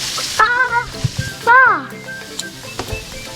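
Okonomiyaki sizzles and crackles in oil on a hot griddle, a steady frying hiss beneath a person talking close by.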